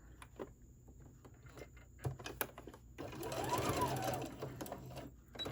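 A sewing machine whirs through a stitching run on a decorative fabric face mask, a close buzzing burst after a few light clicks and handling taps.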